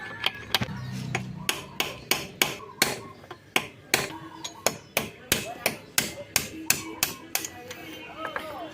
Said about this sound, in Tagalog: pupukpukin natin ng martilyo dito para umangat itong tinatanggal natin na to